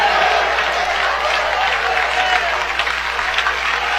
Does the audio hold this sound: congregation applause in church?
yes